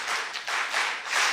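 A church congregation claps the syncopated Korean 2002 World Cup cheering rhythm. Several sharp bursts of group clapping come in a patterned sequence, fairly close and clear, with no voices.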